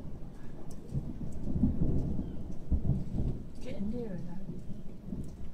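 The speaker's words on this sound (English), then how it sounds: "It can't be completely overhead, or else the lightning would strike at the same time as the thunder." Deep rolling thunder from a severe thunderstorm over Bognor Regis, UK, rumbling low and sustained with rain in the background, and voices talking faintly over it.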